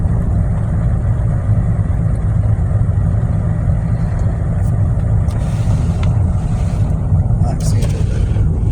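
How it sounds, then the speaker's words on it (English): A pickup truck idles as it warms up on an icy winter day in south Alabama, its low engine rumble running steadily under people talking nearby. "I'm letting the truck warm up, too."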